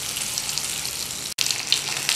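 Fish fries in a pan of hot oil with a continuous bright sizzle and crackle, close and steady, with a brief break partway through.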